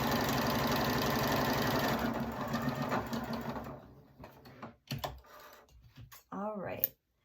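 A sewing machine stitches half square triangle quilt blocks along a diagonal line, running steadily and loud for a few seconds before stopping, followed by quieter handling noises and a brief voice.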